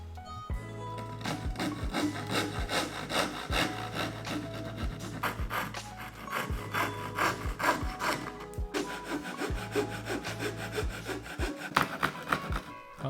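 Repeated hand-saw strokes cut through small wooden parts for a wooden Gundam model, a close rasping back-and-forth rhythm in several runs separated by brief pauses.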